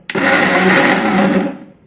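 A mixer grinder runs in one short pulse on a dry maswadi filling, a loud whirring burst that starts abruptly and winds down over under two seconds.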